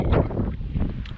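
Strong gusty wind buffets the microphone outdoors at the Lytton gold panning reserve, loud uneven rumbling bursts over a short stretch.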